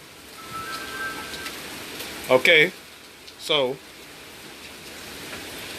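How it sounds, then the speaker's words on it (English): Rain falling outdoors during a dominoes game, a steady broadband hiss under the whole clip, with someone speaking briefly over it. "look at the rain."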